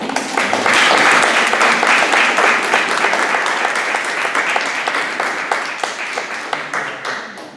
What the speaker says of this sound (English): I just want to give like a round of applause for you all to share.